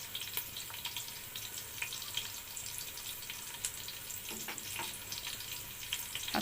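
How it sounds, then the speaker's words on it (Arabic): Onion and spices toast in a pan with a steady soft sizzle and crackle, punctuated by occasional scraping stirs, quiet and close. "معانا بصلايه. طبعا انا هحمص معاها التوابل"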